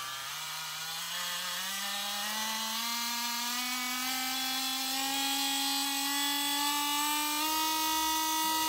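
Cordless mini drill whining steadily as it steps up through its speeds to maximum, a bright motor tone rising gradually in pitch over several seconds, close and continuous with no talking.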